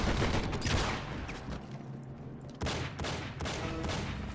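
Bursts of gunfire ring out while enemies are killed in the sewers level of a Matrix video game, with repeated loud volleys in a busy stretch and a short lull in the middle.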